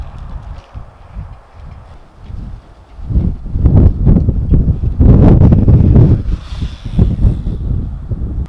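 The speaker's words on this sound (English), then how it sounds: "it's very windy today" Strong wind buffeting the microphone, low rumbling gusts that swell and grow louder midway, with a faint higher rustle near the end.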